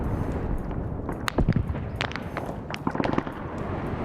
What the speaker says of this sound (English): I think the tank's shooting up at Jax